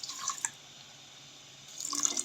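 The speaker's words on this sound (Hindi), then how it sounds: "साथ ही इसमें थोड़ा सा पानी शामिल कर दूंगी जिसमें चीनी अच्छे से मेल्ट हो जाए" Water trickles and drips into a cooking pan of sugar to make syrup for a dried plum chutney, a brief soft splash at the start and a louder trickle at the end, close and quiet with a pause between.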